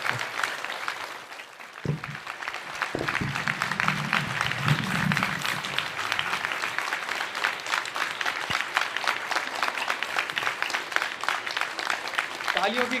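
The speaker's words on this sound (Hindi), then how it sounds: "तालियों की गड़गड़ाहट रुकनी नहीं चाहिए।" Sustained, dense applause from a large audience at a literature festival interview fills the hall, steady and loud throughout with a few sharper claps standing out.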